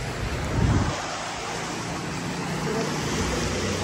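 Fast-flowing river water rushes with a loud, constant roar close by, mixed with gusty wind buffeting the microphone throughout.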